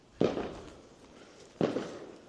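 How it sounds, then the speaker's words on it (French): Two sharp outdoor fireworks bangs, about 1.4 seconds apart, each a sudden loud crack trailing into a short echoing decay, with a quiet background between them. "Oui, c'est un feu d'artifice."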